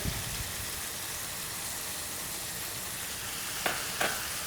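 Ground beef browning with onions in a pan gives a steady, even sizzle throughout, close and moderately loud, with two brief utensil clicks near the end and no speech.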